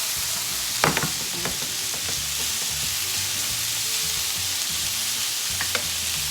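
Onion frying in a little oil for chicken quesadillas, tossed in the pan with a steady bright sizzle and a few clattering knocks of the pan and utensil near the start and end.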